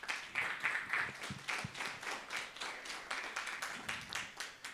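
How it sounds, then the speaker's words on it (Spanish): A church congregation at a special worship service claps in steady, rhythmic bursts, a moderately distant, even wash of applause with no voices over it. "Los vamos a recibir, por favor, con fuertes aplausos."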